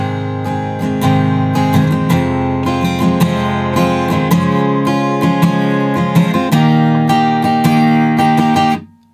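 Acoustic guitar in standard tuning with a capo, chords strummed in a steady rhythm, bright and close, changing chords every few beats before ending abruptly.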